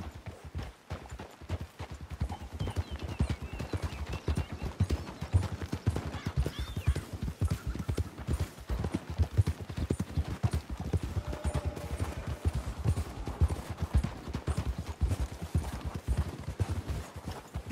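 Horse hooves clip-clop steadily in the video game Red Dead Redemption 2, a continuous rhythmic trot at moderate volume with no talking over it.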